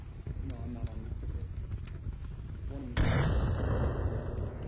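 Grenade explosions in a tactical shooter video game go off as a sudden loud burst partway through, followed by a rumbling decay, with commentators talking excitedly throughout.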